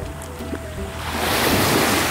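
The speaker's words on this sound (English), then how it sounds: "The waves." Ocean surf washes onto a beach, starting quietly and swelling into a loud, hissing rush of breaking water with some wind noise.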